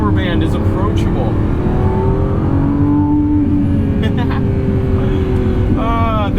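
A Lamborghini Revuelto supercar in sport mode pulls through corners with a steady engine roar that rises and falls in pitch as it shifts, with someone talking over it throughout.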